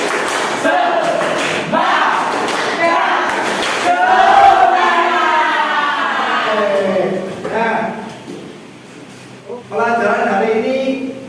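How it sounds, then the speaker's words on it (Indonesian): A school class performs the tepuk semangat spirit chant, many children's voices chanting in unison with rhythmic claps and thumps, loud and close throughout. "mari kita lakukan tepuk semangat"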